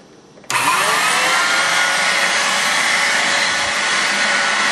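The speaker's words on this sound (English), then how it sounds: "Vacuum cleaner on." A vacuum cleaner switches on abruptly and runs with a loud, steady whooshing roar close by.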